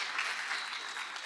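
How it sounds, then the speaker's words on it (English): An audience at a startup demo day gives a round of applause, a continuous wash of many hands clapping at a moderate, even level. "I'd like to give them another round of applause"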